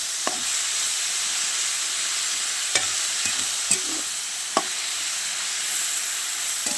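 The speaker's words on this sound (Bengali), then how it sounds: "এবার আমি ভিজিয়ে রাখা পালং শাকটা দিয়ে দেবো।" Soaked spinach stirred into frying potatoes and prawns in a pan, a steady hissing sizzle with a few occasional sharp taps and scrapes from the spatula, close and with no voices.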